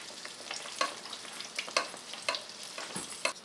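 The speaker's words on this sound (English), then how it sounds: "I'm going to put it in hot oil." Aloo pie frying in hot oil, two at a time, a steady close sizzle and crackle with brief sharper pops scattered throughout, no voices.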